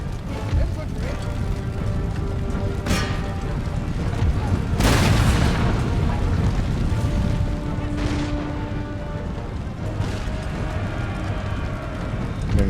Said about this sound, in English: I'm going to get my cav out the way of those cannons that are still firing at us.